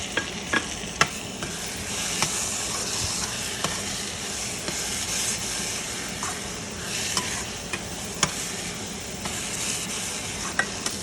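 Onions frying in a pan for stuffed bitter gourd, a constant close sizzle broken by sharp periodic clicks and scrapes of a spoon stirring.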